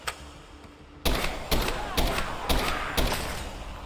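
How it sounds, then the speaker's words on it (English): In a Minecraft zombie-survival modpack, a gun gives a burst of five loud, evenly spaced heavy thumps right after a brief quiet stretch, with a faint game ambience beneath. "Reload real quick."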